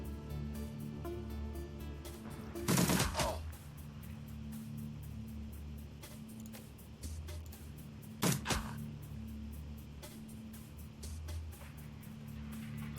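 Two short bursts of burst-fire gunshots from a video game crack out about five seconds apart over a low steady engine-like hum.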